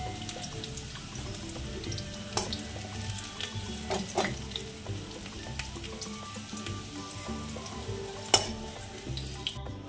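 Sliced onions frying in oil until browned for birista for a mutton curry, a continuous crackling sizzle with occasional sharp clinks and stirring scrapes against the pan.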